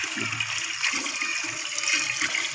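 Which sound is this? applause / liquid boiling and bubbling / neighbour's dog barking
liquid boiling and bubbling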